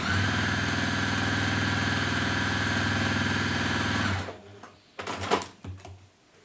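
Sewing machine stitching a folded fabric pocket for a bunny pouch, a loud, steady motor whir held for about four seconds, then cutting off into a few soft handling knocks and rustles.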